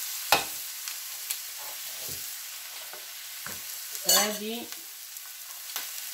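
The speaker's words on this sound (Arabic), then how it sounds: "فبعد ما يتقلى الدجاج ديالنا" Chicken pieces frying in a pan for a Moroccan dish give a steady soft sizzle, with sharp clicks and scrapes of stirring at intervals and a short louder clatter midway, and a brief spoken word.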